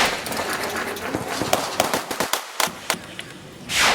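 Sharp shotgun blasts at a shooting competition, a rapid, uneven series of loud close cracks with a fainter burst toward the end.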